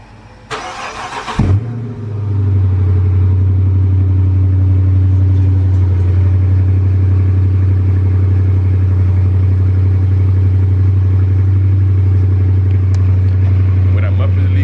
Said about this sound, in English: I'm gonna just give y'all a cold start